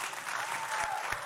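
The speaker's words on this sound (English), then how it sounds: "Round of applause to him for knowing what Q-learning is." Brief, steady audience applause at a lecture on walking robots, a moderately quiet wash of many hands clapping throughout the short moment.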